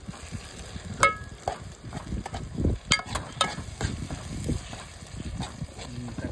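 Green chilies, tomato and onion sautéing in a pan for a dried fish sambal, with busy irregular scraping and stirring over a low sizzle, several sharp clinks, fairly close.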